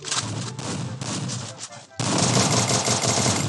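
Rapid automatic gunfire rattles in a shooter video game, a burst with short gaps followed by a louder, denser continuous stream.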